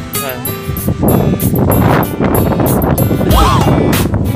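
Strong gusting wind in Tagaytay buffets the microphone with loud, rumbling bursts throughout, and a voice is briefly audible beneath the roar.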